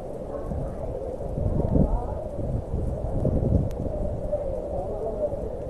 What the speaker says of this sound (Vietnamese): Mưa lớn quá